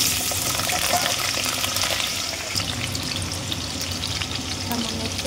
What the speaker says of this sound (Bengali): আর এখন আমি এক এক করে সব কিছু ভাজা করবো। আচ্ছা, আলুটা আগে ভাজা করবো।